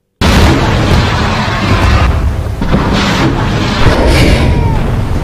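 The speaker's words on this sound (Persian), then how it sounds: "شلیک موشک پدافندی نواب از ناو راهبردی شهید سلیمانی به" Navab air-defense missile fired from the strategic navy ship Shahid Soleimani over the Persian Gulf during a naval exercise, a loud, continuous roaring rush of launch and rocket exhaust that fills the clip after a brief silent start.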